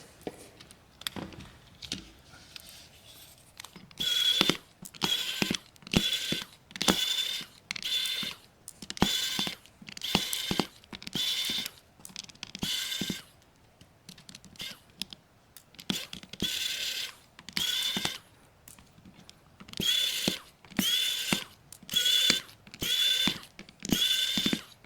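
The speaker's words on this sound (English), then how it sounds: "So let's take all these screws out real quick." Screws being driven out of a Nokia G310 5G phone with a small electric screwdriver, a series of short whirring bursts separated by brief pauses, close and fairly quiet.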